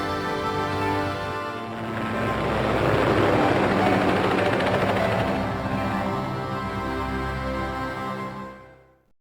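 Helicopter flying in the Resident Evil Survivor video game, a steady whirring engine and rotor drone that swells slightly in the middle, then cuts off abruptly at the end.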